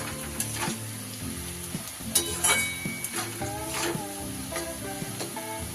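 Turmeric and Kashmiri chilli powder hit hot oil for a mashed spicy dried-fish bharta, giving a steady close sizzle with stirring scrapes and a few light clinks of utensils against the pan.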